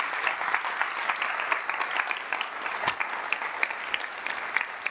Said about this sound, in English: So let's give all of them a big round of applause.